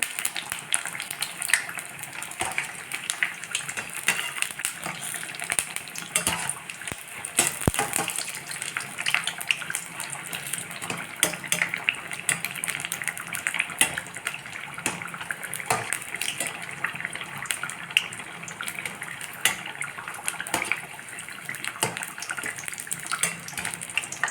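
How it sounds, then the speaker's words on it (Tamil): Bajji fritters deep frying in hot oil, a dense, continuous bubbling crackle that stays loud and steady throughout with no voices. "திருப்பி திருப்பி விட்டு பொறிச்சிக்கணும் அப்போ தான் ஒரு ஈவனாக ஒரே கலரில் வரும்"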